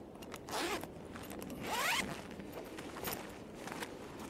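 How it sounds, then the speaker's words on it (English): Ziploc bag pressed shut in a snowy outdoor camp, giving two quick faint zip-like rasps close by against a quiet background. "And I use a Ziploc pouch this time"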